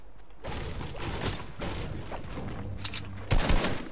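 Gunfire in a video game: repeated bursts of rapid shots, moderately loud and close, come in clusters with short gaps between them, and a heavier burst near the end.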